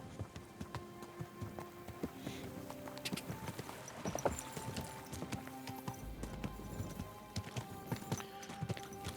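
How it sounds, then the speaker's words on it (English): Horse hooves clip-clop at a walking pace along a night road in Kingdom Come Deliverance II, a steady close rhythm over game ambience and music. "So, we're on a horse."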